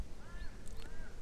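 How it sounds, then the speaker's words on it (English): Small birds call in a reed fen wetland, giving thin, rising whistled notes twice in quick succession against a soft, breezy outdoor background. "We can hear some small little birds."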